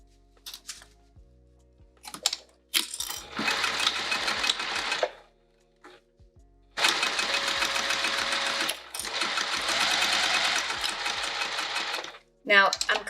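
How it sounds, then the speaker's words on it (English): A home sewing machine stitching a fabric sling in several sustained runs of rapid mechanical whirring, separated by pauses with clicks and handling noises. "All right, let's go to the machine."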